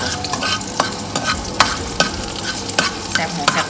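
Garlic stir-fried in a hot pan for Thai pad kra pao: a steady close sizzle broken by repeated sharp spatula scrapes and clacks at an irregular rhythm, with no voices.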